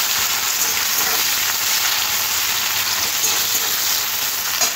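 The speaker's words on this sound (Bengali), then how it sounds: "পেঁয়াজটা হালকা করে একটু ভেজে নিতে হবে।" Onions frying lightly in a pan with nigella seeds and bay leaves, the base for a Bengali-style cabbage curry, give a steady, close, even sizzle with no talking.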